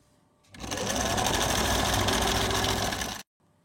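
A sewing machine runs steadily for nearly three seconds while stitching the seam of a shalwar, a dense continuous whirr starting abruptly and cutting off cleanly into quiet.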